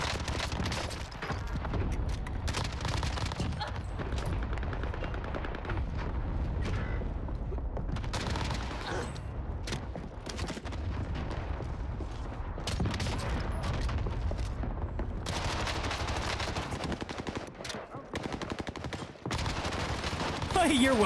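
Steady bursts of in-game gunfire and booms in a Call of Duty match with an MP5 and MP40 in play, loud and nearly continuous with short breaks, under intermittent player chatter.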